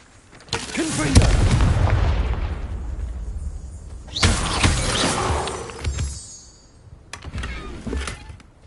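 Fiery Confringo spell blasts in Hogwarts Legacy: repeated loud bursts with crackling, shattering tails, several distinct explosions across the stretch, close and forceful.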